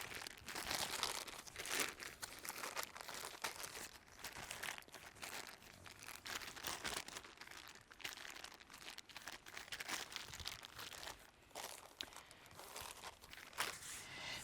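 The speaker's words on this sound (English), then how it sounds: "it's really easy to peel the bag away from this ball of dough" Plastic bag crinkling continuously and loudly up close as a ball of yeast bread dough is peeled and shaped out of it at a campsite, dense rustling with no talk.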